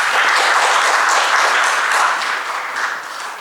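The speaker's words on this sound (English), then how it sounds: "a big round of applause for sir." An audience at a medical conference applauds a speaker with dense, steady clapping that holds loud before tapering slightly at the end.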